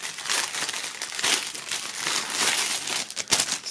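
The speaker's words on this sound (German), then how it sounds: "dann schauen wir mal, dass wir die einzelnen Inhalte hier aus der Folie befreien" Plastic foil crinkles and rustles loudly and continuously as the contents of a music box set, including a flag, key chain and album, are unwrapped by hand, close up with no talk.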